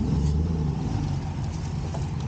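A junkyard Chevrolet Tahoe truck engine runs as the vehicle moves, a low steady motor drone with slight throttle variation, close and alone.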